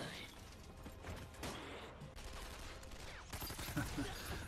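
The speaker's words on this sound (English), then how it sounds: "they're gonna have this like keep having a gunfight, right?" Gunfight gunfire from the anime Buddy Daddies: bursts of shots and mechanical clatter under soundtrack noise, with a louder cluster of shots near the end.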